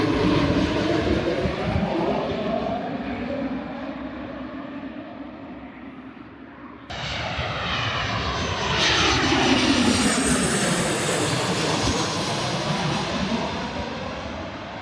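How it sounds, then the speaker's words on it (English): A small airplane passes overhead at Vancouver airport with a loud, steady engine roar. The roar dips, then surges again as it goes over, with the pitch sweeping down as it recedes. No one speaks. "It's an itty bitty little plane."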